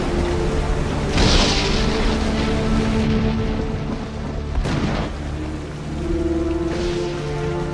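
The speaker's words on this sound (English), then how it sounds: "It's a terrible storm." Heavy rain and wind roar steadily, with a couple of deep thunder booms rolling through at intervals.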